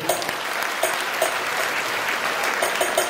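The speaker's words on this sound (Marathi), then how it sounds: "टाळ्या वाजू एकदा यांच्यासाठी" Audience clapping at a Home Minister women's game show event in Paranda, a steady dense wash of applause filling the whole stretch with a few sharper claps standing out.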